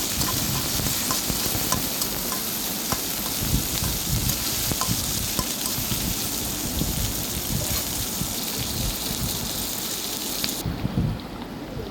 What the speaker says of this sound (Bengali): পেঁয়াজ কুচি দিয়ে পেঁয়াজ কুচিগুলো হালকা করে ভেজে নিতে হবে